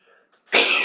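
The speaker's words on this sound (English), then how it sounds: "I'm sorry, cough fit." A person in a spoken-word talk breaks into a coughing fit: a short burst of harsh, loud coughing right after a quiet moment, close to the microphone.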